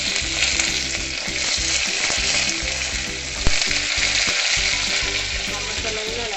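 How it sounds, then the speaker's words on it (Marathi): Stuffed brinjals frying in a hot pan with asafoetida, a loud continuous close sizzle with stirring scrapes throughout and a single sharp knock partway through. "आता हिंग घालायचा आहे आणि जी वांगी आपण मसाला भरून ठेवलेली आहे ती वांगी याच्यामध्ये घालायची आहे"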